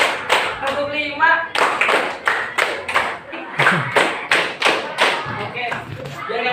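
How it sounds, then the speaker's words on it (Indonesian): A classroom of students claps hands together in counted bursts, sharp repeated claps in a steady rhythm over roughly six and a half seconds, fairly close and loud, with a voice calling out the count between them. "Tepuk 1, tepuk 2, tepuk 3, tepuk 4"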